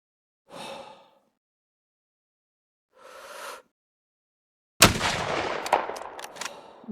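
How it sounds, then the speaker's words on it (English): A .243 Winchester rifle shot from the hunting video game Ultimate Hunting cracks sharply and loudly and trails into a rattling echo, preceded by two soft breathy sighs separated by silence. "I kind of like the rifle sound."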